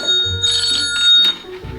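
A telephone rings with a sharp, bright bell-like trill in short bursts, loud and close, with no talk over it.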